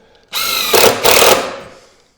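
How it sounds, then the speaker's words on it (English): A power drill drives a 1 5/8-inch deck screw into wood for a garden wall, whirring up loudly and close, bogging into a strained grind as the screw bites, then winding down to silence. "I'm using some 1 5/8" deck screws to attach this"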